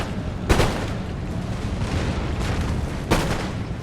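Line infantry musket volleys crack out in the Empire: Total War video game. Two sharp, loud volleys about two and a half seconds apart stand over a steady, distant crackle of scattered battlefield gunfire.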